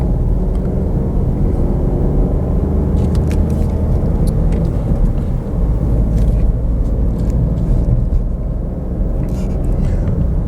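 An Opel Astra 1.2 Edition car driving along a road, with a steady, continuous engine and road rumble close by and someone talking over it throughout.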